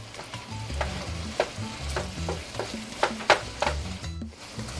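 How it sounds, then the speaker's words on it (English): Shrimp and finely minced garlic frying together in a pan for governor tacos, a loud steady sizzle close up with repeated scrapes and clacks of stirring throughout. "I'm gonna bring them in together with my shrimp."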